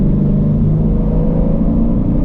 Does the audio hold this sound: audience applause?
no